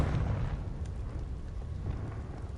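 Confringo blasting spell cast in Hogwarts Legacy, a dense low rumbling burst that rolls on steadily for a couple of seconds at moderate loudness with no talking.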